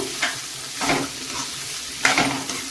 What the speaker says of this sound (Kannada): ಇದನ್ನೆಲ್ಲವನ್ನು ನಾನೀಗ ಚೆನ್ನಾಗಿ ಫ್ರೈ ಮಾಡ್ಕೋತೀನಿ ಎಣ್ಣೆಯಲ್ಲಿ ಚೆನ್ನಾಗಿ ಫ್ರೈ ಆಗಬೇಕಿದು